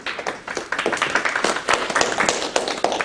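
An indoor audience at a real estate agent training session claps, a dense patter of many hands sustained throughout, fairly close.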